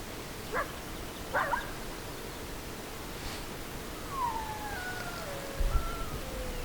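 A coyote out on the ice in Newfoundland gives a few short, faint barks and yips at a distance, followed by a thin, wavering whine, all over a quiet outdoor background hiss.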